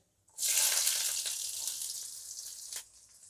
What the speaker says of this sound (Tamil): வெங்காயம் போட்டு வெங்காயம் கொஞ்சம் பொன்னிறமாக வர்ற வரைக்கும் வதக்கிடலாம்